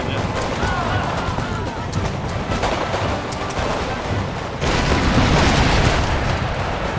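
Dense, continuous battle noise from a Total War video game on high difficulty: cannon fire and massed gunfire rumble and crackle throughout, getting louder toward the end, with a voice talking over it.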